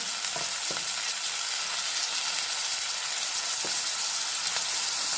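Onion and tomato cooking in a kadai give a steady, loud, hissing sizzle that fills the whole stretch, with only a couple of faint clinks of a spoon against the pan.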